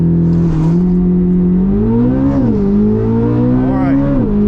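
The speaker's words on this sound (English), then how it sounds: "I'll put it back in drive, let the car shift itself for drag racing." Corvette C8 Z06 in a drag race, engine loud and close with a steady rising drone that climbs in pitch through the gears, short dips where it shifts itself.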